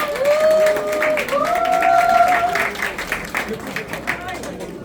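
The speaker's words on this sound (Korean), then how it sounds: "저희 박필현 이사장님 큰 박수로 어, 모시도록 하겠습니다." Applause from an audience welcoming the foundation chairman at the opening ceremony of an international art festival in Gangneung, with sustained clapping under a sung or held voice that thins out toward the end.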